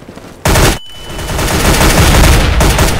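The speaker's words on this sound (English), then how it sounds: "I'm throwing a flashbang!" Video game firefight: a sharp flashbang blast followed by a dense, loud burst of continuous gunfire running to the end.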